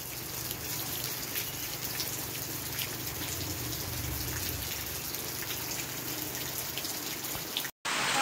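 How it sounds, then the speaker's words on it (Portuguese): Rain falling and dripping on an afternoon in São João do Aruaru, Morada Nova, Ceará, a steady dense hiss with scattered close drip taps, continuous and moderately loud, briefly cutting out near the end. "Aqui tá chovendo, chega tá pingando."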